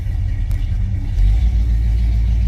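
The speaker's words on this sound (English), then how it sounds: "Let's fire it up and go for a ride." A 1967 Dodge Charger with a 318 V8 and automatic transmission runs with a loud, deep, steady rumble close by, the low throb growing heavier partway through, with no talking.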